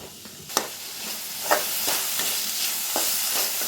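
Masala with tomato sizzles in a hot pan while a utensil stirs it, giving a steady hiss broken by several sharp scraping clacks at irregular intervals, close and moderately loud, with no talking.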